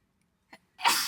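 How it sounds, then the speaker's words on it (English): A single sneeze: a short sharp intake followed by a loud, breathy burst, close to the microphone, then silence. "I'm gonna sneeze."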